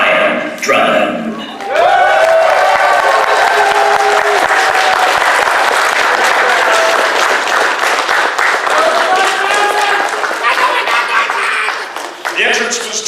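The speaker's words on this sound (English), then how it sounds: "Gentlebots, please give a big round of applause for the Cyan Prince himself, Brian Drummond." A convention crowd gives voice actor Brian Drummond a big welcome, loud sustained applause with whoops and cheering voices rising over the clapping, then fading as people begin talking.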